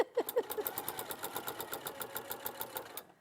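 A hand-cranked sewing machine stitches PU fabric at a slow, even pace, its needle thumping in a steady rhythm of close, clear strokes that slows at the end.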